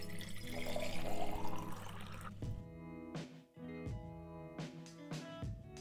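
Water pouring into a glass in a kitchen, a steady trickling fill at first, then a few short splashy bursts and clinks close by, with no talking.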